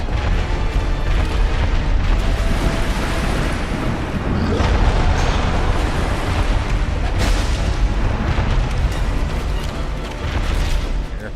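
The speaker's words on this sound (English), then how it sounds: "That explosion is just devastating." Loud, dense rumbling blast from a boss's slam explosion in Dark Souls: Prepare to Die, with booming bursts and crackling debris, a sustained explosive roar filling the whole stretch.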